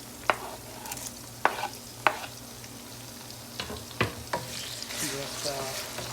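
Cashews, green chilies and tomato fry in a pan for mutton biryani, with a soft steady sizzle broken by several sharp spatula knocks and stirring scrapes, close by and without talk.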